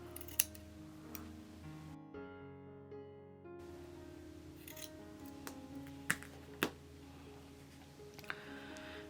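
Scissors snipping knitted yarn near the end of a ribbed scarf: a few faint, sharp clicks scattered over quiet background, close but soft, no talk.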